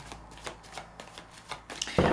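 Tarot cards are shuffled by hand in steady, quick riffling bursts, with no talk over them, ending in a louder, denser flurry.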